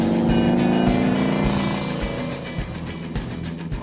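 A Volkswagen Beetle-based beach buggy engine drones along while driving, a loud, steady buzzy hum with rising and falling tone and a few brief knocks and bumps, no talking.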